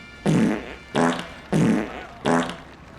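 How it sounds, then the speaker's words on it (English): A novelty keychain plays four loud, buzzy fart noises in an even, repeating rhythm, close by and with no talking. "Fart noise keychain."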